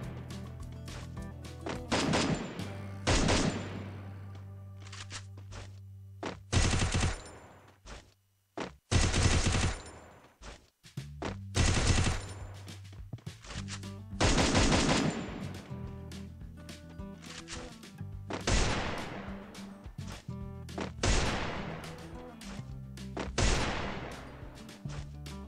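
Rapid automatic gunfire in a shooter video game, repeated bursts of loud shots separated by short pauses, with a steady low game hum between bursts and no talking.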